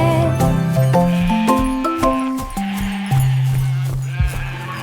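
Sheep bleat repeatedly in overlapping wavering calls, several animals close by, loud and continuous with a faint jingle in the background.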